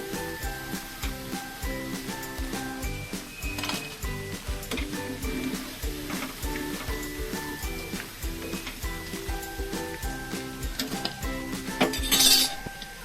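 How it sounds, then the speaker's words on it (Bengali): Fried soybean chunks lifted out of a hot pan of oil for a chilli soya dish, with repeated metallic clinks and scrapes of a spatula against the pan, steady under a faint sizzle. "সয়াবিনগুলো নামানো হয়ে গেছে।"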